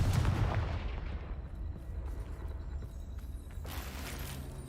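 A Confringo fire spell goes off in Hogwarts Legacy as a heavy booming blast up front, followed by a rumbling, crackling decay and a second burst of crackle near the end.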